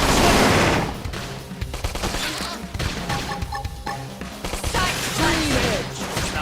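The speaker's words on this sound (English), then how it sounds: "Topple them with gunfire" Rapid gunfire bursts in the Xenoblade Chronicles X Definitive Edition video game, loud and dense, mixed with crashes, mechanical clanks and musical game effects throughout.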